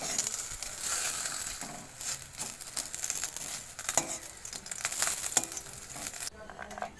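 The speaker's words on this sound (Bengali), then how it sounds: "কড়াই ছেড়ে দিয়ে তেলে একের পর এক ভেজে নিলাম" Parathas frying one after another in oil in a wok, a soft crackling sizzle with stirring and scraping noises, fairly quiet and continuous, fading near the end.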